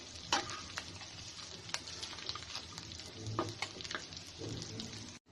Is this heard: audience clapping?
no